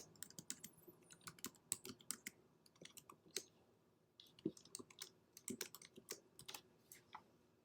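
Keys clacking on a computer keyboard at a trading setup screen, an irregular run of close, light taps in short flurries with brief pauses, quiet and without talk.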